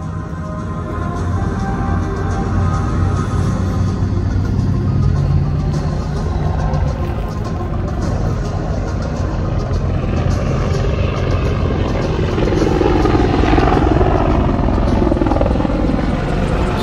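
An Apache attack helicopter flies over a K2 tank and K-21 armored vehicle maneuvering at a military combat demonstration in Gyeryong. A loud, steady rotor and engine drone fills the whole stretch, swelling slightly toward the end, with no voices.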